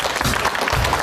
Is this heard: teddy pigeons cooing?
no